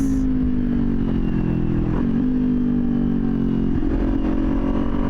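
A Kawasaki Ninja 400 motorcycle engine runs close by with a steady, loud droning note. It gives a couple of brief throttle blips that dip and lift the pitch before it settles back.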